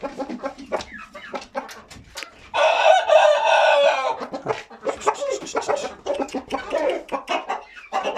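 Chickens and growing chicks cluck repeatedly at close range in a backyard coop while a rooster lets out one long, loud crow partway through, surrounded by busy overlapping clucking.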